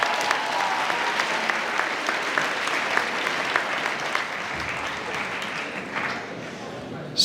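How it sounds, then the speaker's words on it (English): Audience applause for a jazz band fills a school assembly hall, a steady, dense roar of clapping that holds for several seconds before tapering slightly near the end. "Let's give one more big round of applause for our jazz band"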